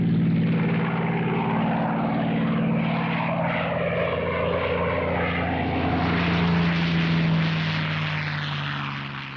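A P-51 Mustang propeller fighter flies past with a loud, steady droning piston-engine roar and strong low harmonic hum, swelling slightly midway and then easing off as it recedes.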